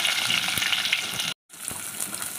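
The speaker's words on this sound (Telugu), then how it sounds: "మెంతులు జీలకర్ర ఆవాలు అన్నీ ఆయిల్లో వేసేయాలి చిట్టపట ఆడిన తర్వాత ఉల్లిపాయ వేసేయాలండి" Onions sizzling in hot oil with fenugreek, cumin and mustard seeds for an egg and brinjal curry, a steady close frying hiss with a brief cut of silence midway and a few soft stirring knocks.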